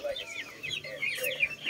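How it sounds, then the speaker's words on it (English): Chickens and chicks clucking and cheeping close by at feeding time, a steady chatter of short chirps and clucks with no other sound over it. "Chicks. Lots of chicks."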